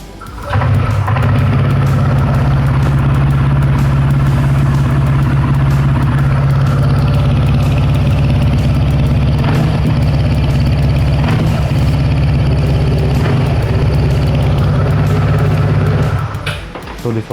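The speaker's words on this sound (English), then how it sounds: "So this was the exhaust note of this NTORQ 150." TVS NTORQ 150 scooter starting up and idling, its exhaust note a loud, steady low rumble that holds for about fifteen seconds with slight revving, then cuts off.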